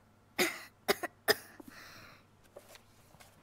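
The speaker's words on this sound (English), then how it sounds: "That cough sound bad" A character in the video game Life Is Strange 2 coughs in a few sharp, harsh bursts close by, the bursts coming in quick succession before trailing into quieter breathy sounds, with no talk over them.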